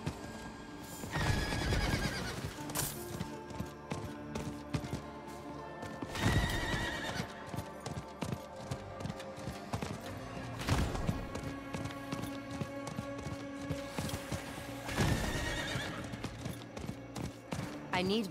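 Horse in Diablo IV galloping with rhythmic clip-clop hoofbeats across the whole stretch, broken by several loud whinnies spaced a few seconds apart; game music and effects mix underneath.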